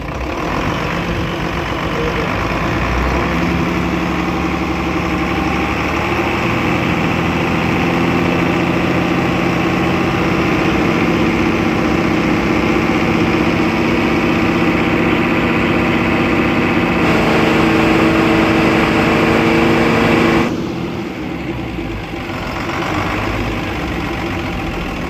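An Isuzu 6B diesel engine runs steadily after servicing, loud and close, its idle drone rising under the accelerator and then dropping back before climbing again.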